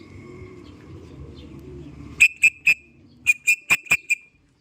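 A racing pigeon arrives at the loft; after a low rumble of background noise, a series of about eight short, sharp whistle-like calls rings out clearly in quick, uneven bursts, then stops.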